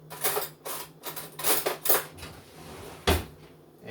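A spoon pulled from a drawer and ceramic dishes clinking in a home kitchen while making a turkey salad, a run of close, bright clatters and taps, one sharper knock near the end.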